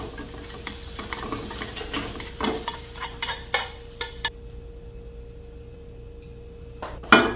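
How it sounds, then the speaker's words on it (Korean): Carrot strips, salted beforehand, stir-fried in a pan while preparing chiljeolpan for a Korean cooking exam, giving a light sizzle with brief scraping stir strokes through the first half, then a quieter steady sizzle alone. "당근도 충분히 익혀서 휘어질 수 있도록 만들어 주셔야 돼요."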